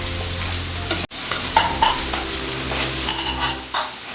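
Bitter gourd fry, kakarakaya with jaggery and fresh lemon juice, stirred in a sizzling pan, with steady frying hiss, spoon scraping and clinks against the metal after an abrupt start, close and alone.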